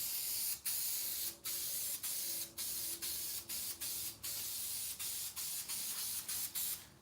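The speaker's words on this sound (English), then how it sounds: "upholstery spray." Upholstery spray adhesive hissing onto foam and fabric for a yacht cushion, in a rapid series of short, sharp bursts separated by brief gaps, close and fairly loud with a faint steady hum underneath.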